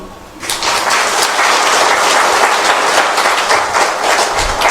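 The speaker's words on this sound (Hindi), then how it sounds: "बाबा के लिए हो जाए ताली।" An audience at a talk on the science of meditation breaks into clapping for Baba, starting abruptly after a brief quiet moment and continuing as a fairly loud, even patter of many hands.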